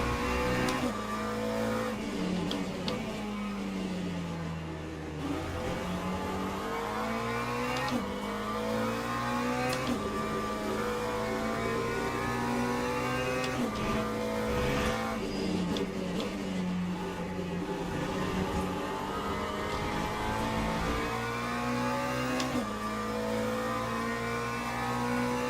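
GT3 race cars, including a BMW, lapping Interlagos in the racing game Le Mans Ultimate: steady, loud engine drone rising and falling through gear changes and revs for the whole stretch, with brief tire noise and no voice.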